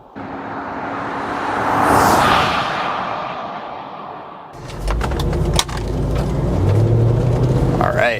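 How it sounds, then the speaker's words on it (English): Mercedes ML55 AMG SUV under way, a loud steady engine and road roar that swells and fades, then turns into rougher cabin rumble with knocks and a low drone, close and continuous throughout. "we are driving the Mercedes ML55 AMG"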